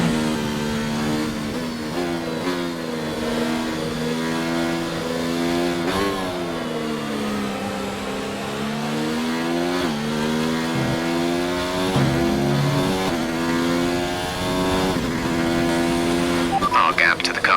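An AMG Mercedes Formula 1 car in a career-mode race at the Shanghai Grand Prix holds a high, buzzing engine whine that rises and falls steadily through gear changes, with a voice speaking over it at times.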